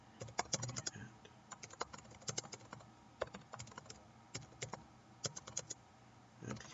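Keys tapped on a computer keyboard while entering a meeting description, irregular bursts of soft clicks with short gaps, close by and alone without speech.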